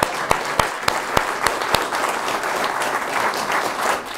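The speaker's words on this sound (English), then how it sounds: "Come on, round of applause." A crowd's round of applause at a talk on the Arts and Crafts era, with several sharp, distinct claps early on standing out from the dense, continuous clapping that follows.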